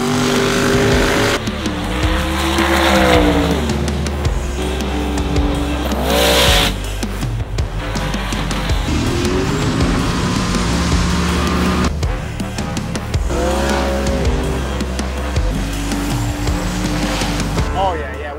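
Engines roar loudly and continuously at a drag racing event for street-driven cars, the sound rising and falling through gear changes with squealing tires, including a 1955 Chevy tube chassis drag car, with voices heard under the noise.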